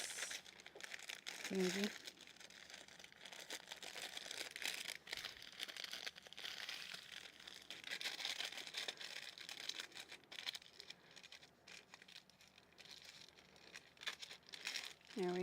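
Crunchy crinkling of a sheet of material as it is folded over by hand, a steady papery rustle running throughout with a voice speaking briefly near the start and end.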